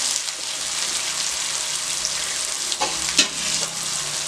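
Potato pieces fry in a pan with a steady, close sizzle that runs the whole time, and a few louder stirring scrapes come near the end.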